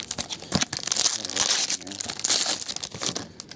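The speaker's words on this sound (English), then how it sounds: "You said go ahead and rip this open" A foil hockey card pack from a box break is ripped open, giving crinkly tearing and crumpling bursts up close, with a voice faintly present.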